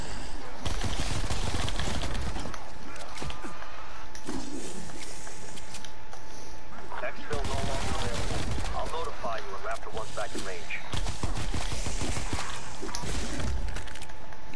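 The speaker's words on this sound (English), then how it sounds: "These double pistols going hard" Double pistols fire in rapid bursts during a video game, with sharp shots repeating through the action under steady talk and dense game noise.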